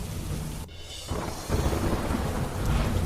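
Heavy monsoon rain pours steadily in Modasa and Dhansura, Aravalli, a dense roaring hiss broken by a brief lull and a low rumble of thunder, with no voices.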